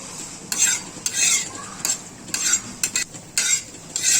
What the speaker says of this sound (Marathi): वीस ते पंचवीस मिरच्या आहेत या आपल्याला या चांगल्या भाजून घ्यायच्या आहेत वरच्यावर असं हलवत राहायचं आहे